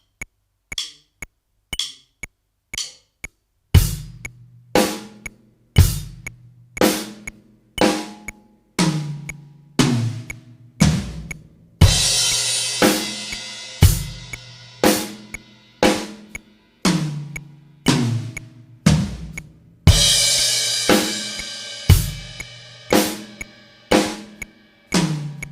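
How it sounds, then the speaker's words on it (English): A drum groove of sharp, evenly spaced hits with a steady kick, broken twice by a bright crash cymbal that washes out over several beats; no voices. "this will signify you finishing the fill or opening the fill with a crash"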